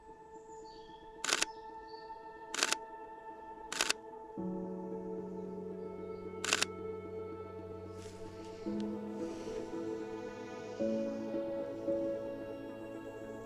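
Four sharp single camera shutter clicks sound close and distinct, spaced irregularly, while taking nature photos outdoors in spring, over a quiet background with a steady tonal hum.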